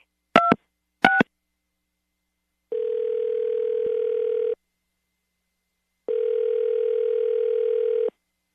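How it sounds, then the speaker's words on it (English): A telephone call being placed: two short dialing tone bursts followed by two long ringback tones separated by silence, clear and close. "we'll call him right now and see if we can get him on the phone"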